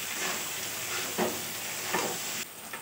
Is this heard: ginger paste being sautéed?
yes